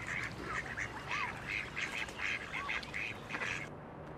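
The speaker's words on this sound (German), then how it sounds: "ein paar Enten, man hört sie auch" Ducks quack repeatedly at a small fish pond in the woods in Farming Simulator 22, a run of nasal calls in quick bursts over a constant rustling ambient bed, with no talk.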